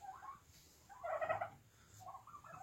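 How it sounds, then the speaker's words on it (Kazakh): Turkeys in a poultry yard, heard as a few faint, distant bursts of gobbling calls at a low level with quiet background and no talk. "қорамдағы Күркетауықтар осы."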